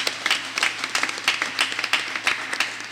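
Audience applause at a closing ceremony, a moderate crowd clapping in uneven bursts, fairly near and steady across the whole moment with no voices over it.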